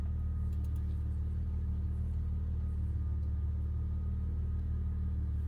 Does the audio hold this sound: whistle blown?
no